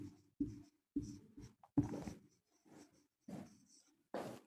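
Chalk or marker writing on a board during a Hindi-medium English grammar lesson, short scratchy strokes in bursts with brief pauses between them, close and fairly loud, no talking over it.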